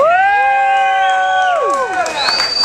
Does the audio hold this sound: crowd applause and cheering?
yes